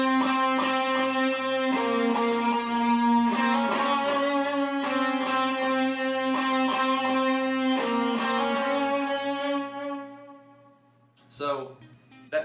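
Clean electric guitar picks out a simple vocal-style melody in a church worship setting, sustained single notes ringing one after another, close and steady, then fading out near the end with a brief trailing strum.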